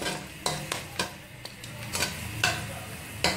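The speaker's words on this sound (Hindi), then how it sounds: "और इसको मैं हल्का सा फ्राई करूँगी 1 मिनट के लिए" Cloves and a cinnamon stick fry briefly in a pan for dahi aloo masala biryani, with a soft sizzle under repeated crisp clicks and scrapes of a spoon stirring. The sound is close, with no voices.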